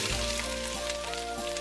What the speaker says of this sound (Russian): отправляем в раскаленное масло лук